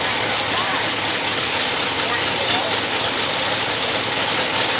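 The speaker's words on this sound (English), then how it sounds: "Tractor's going down and working the track today." A loud, steady tractor engine rumble drones throughout with broad noisy hiss as it works a truck pull track, running nearby without pause.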